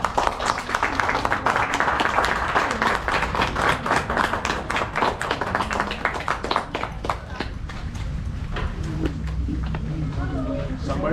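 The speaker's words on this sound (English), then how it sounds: "Let's give them a big round of applause." Loud, sustained applause from a large conference audience, dense clapping running the whole time and easing off slightly near the end.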